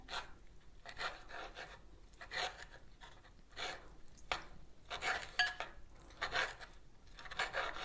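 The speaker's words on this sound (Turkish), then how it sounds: "Domateslerimi de küçük küçük doğruyorum içerisine." A knife chops sun-dried tomatoes into small pieces on a board, giving soft, quiet, steady strokes in a regular rhythm.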